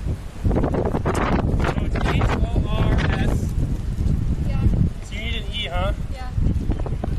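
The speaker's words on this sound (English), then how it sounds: "I know it's windy." Steady wind buffeting a microphone, rumbling throughout, with voices talking over it.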